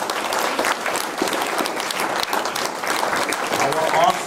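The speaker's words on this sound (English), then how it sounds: "why not give an applause to our God who is an awesome God?" A church congregation at a Sunday service claps loudly and continuously, the applause mixed with voices calling out over it.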